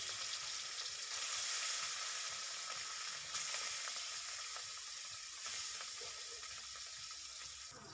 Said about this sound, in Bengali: তেলটা গরম হয়ে গেছে। এখন আমি এর ভিতরে ম্যারিনেট করে রাখা মাছগুলোকে একে একে সব